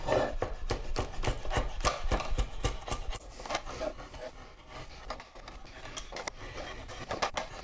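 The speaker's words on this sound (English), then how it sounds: "It automatically opens and I can carve the entire width of the workpiece." Wood is carved on a shave horse converted to a spoon mule: repeated rhythmic scraping and shaving strokes, close and fairly loud, with rubbing and a few knocks between the strokes.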